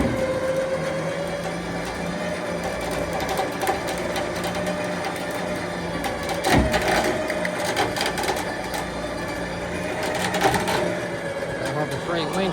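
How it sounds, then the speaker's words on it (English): An electric winch hauls a 1967 Ford F100 pickup that sat abandoned for 20 years, giving a steady mechanical whine with louder bursts now and then while people talk over it. "Winch doing work today,"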